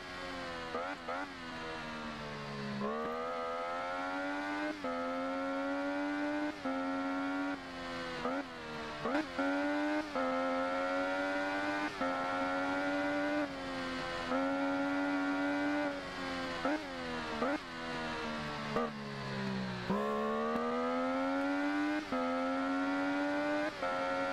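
An MV Agusta Rivale 800 motorcycle roaring in a racing video game, its engine revving loud and steady with repeated rising pitch sweeps through gear changes, continuous for the whole stretch.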